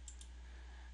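A faint double mouse click, two quick light ticks close together, over a steady low electrical hum.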